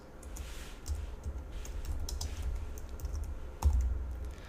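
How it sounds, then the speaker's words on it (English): Keystrokes on a computer keyboard while coding a file-exception handler, a steady run of light clicks at close range with one sharper knock near the end, no voices. "And as I start to type"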